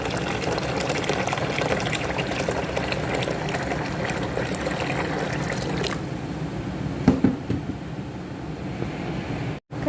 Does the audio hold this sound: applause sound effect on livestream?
no